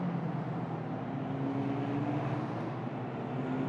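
Formula Regional single-seater race cars running down a long straight on the Barcelona circuit, a continuous steady engine drone at moderate distance with a sustained tonal whine and no break or passing peak.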